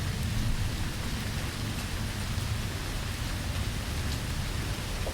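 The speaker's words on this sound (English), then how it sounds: "a huge storm rolled in" A heavy downpour during a big storm rolling in, steady dense rain hiss with a low rumbling undertone like distant thunder, loud and continuous throughout with no voices.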